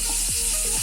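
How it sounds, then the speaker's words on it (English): Onions and capsicums stir frying in a pan for honey chili potatoes, a steady close sizzle with brief scraping stirs, no talking. "we're going to stir fry"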